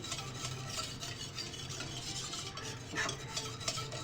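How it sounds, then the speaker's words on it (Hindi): A spoon stirs egg into milk in a pot over a low flame, a steady scraping swirl at moderate level, continuous and without talk, with faint sizzle in the background. "मुसलसल आपने स्पून चलाते रहना है जब तक अंडा दूध के अंदर अच्छे से मिक्स नहीं हो जाता"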